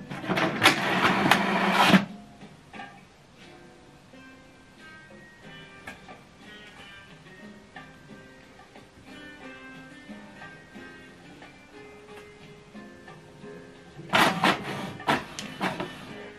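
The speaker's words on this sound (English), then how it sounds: "If you print the alignment page right now, then you should be able to, okay. So print alignment." An HP DeskJet 2630 inkjet printer runs an alignment page, with a loud burst of mechanical whirring and feeding at the start, a quieter stretch of faint carriage motion and clicks, then another loud burst near the end.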